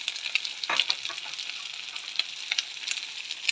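Apple fried rice sizzles in butter in a pan as it is stir-fried, giving a steady crackle with quick scraping and stirring strokes, close and alone.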